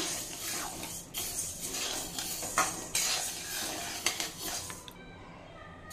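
Urad dal and moong dal toast in a pan, giving a soft, dry sizzle broken by repeated scraping and clinks of a spoon as it is stirred, close and moderately quiet.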